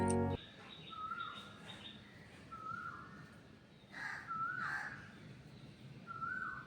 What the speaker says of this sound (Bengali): দূর থেকে ভেসে আসা কোকিলের ডাক শোনাই চলুন